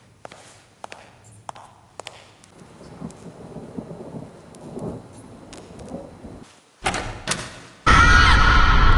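Video game sound effects: low rumbling and scattered creaks build into a heavy storm roar outside, ending in a loud, sustained crash of thunder and pouring rain.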